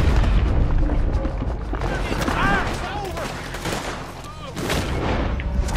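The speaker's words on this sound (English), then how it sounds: "And boom goes the dynamite." Dynamite goes off in the Red Dead Redemption 2 video game, heavy booms and blasts mixed with gunfire over a dense, loud game soundscape.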